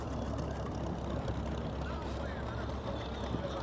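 An antique John Deere tractor engine runs at a threshing demonstration with a wheat thresher, giving a steady, loud, close rumble throughout, with faint voices in the background.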